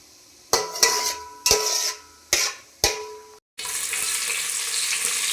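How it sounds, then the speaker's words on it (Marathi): Whole spices, bay leaf, cinnamon and cumin, drop into hot oil in a pan, with several sharp sizzling bursts that fade one after another, then a steady, louder frying hiss. "आता इथे अख्खा मसाला टाकलेला आहे, तेजपत्ता, दालचिनी, जिरं, छान परतून घ्यायचं।"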